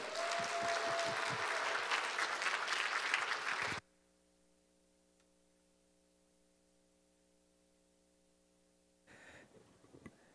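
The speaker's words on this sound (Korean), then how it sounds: "이성문 형제님 나올 때 우리 큰 박수 부탁드립니다" A church congregation at an evening prayer meeting of testimonies applauds steadily for almost four seconds, then stops abruptly, leaving low hum and near silence before a brief rustle of renewed noise at the end.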